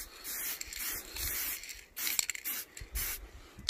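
A spray paint can lays down a blue base coat in several short hissing bursts separated by brief pauses, close by and fairly quiet.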